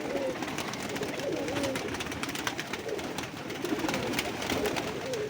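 Breeder pigeons coo softly in low, rolling phrases amid a steady background hum of outdoor noise and faint chatter.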